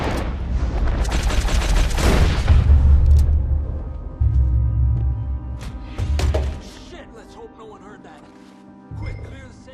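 Bursts of gunfire crack through a Red Dead Redemption 2 cutscene, a dense volley in the first seconds followed by scattered shots and deep thuds, loud and close, with a voice speaking afterward.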